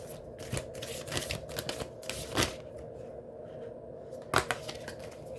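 A deck of tarot cards is shuffled by hand in several quick riffling bursts separated by short pauses, close and crisp, ending with a sharper final flurry.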